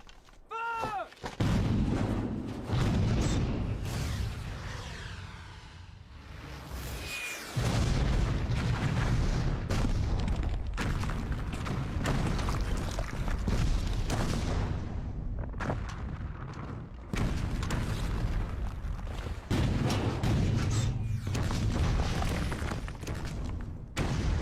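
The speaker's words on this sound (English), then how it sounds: "French cannons are deadly!" Repeated deep French cannon blasts boom over a roaring battle din, heavy and continuous with brief lulls between volleys.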